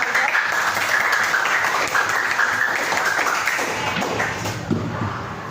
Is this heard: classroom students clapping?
yes